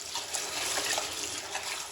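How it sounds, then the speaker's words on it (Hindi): Rice being washed under running tap water, a steady close rush and splash of water filling the whole moment with no talk. "यहाँ पे हम खुले पानी में इनको अच्छी तरह धो लेंगे।"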